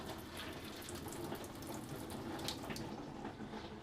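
Water runs steadily from a tap inside a cargo trailer converted into a toy hauler camper, a continuous close rushing flow with no talk over it.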